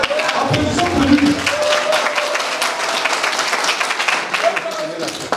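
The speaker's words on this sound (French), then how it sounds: "Applaudissons pour lui." Crowd applause at a centenary celebration and building inauguration honouring a paramount chief, with steady dense clapping throughout and voices shouting over it.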